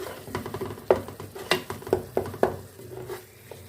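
A spoon stirs red chilli, ground coriander and turmeric into boiled meat in a pot for aloo shaljam gosht, a series of close, uneven scraping knocks over a soft sizzle.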